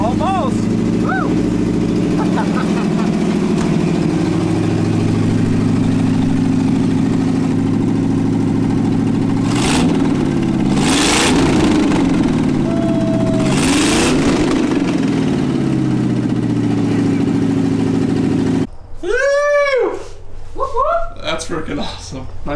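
A 1971 Jaguar fitted with a small-block Chevy V8 idles with a deep rumble and then revs in several bursts. Excited voices and cheering come in near the end.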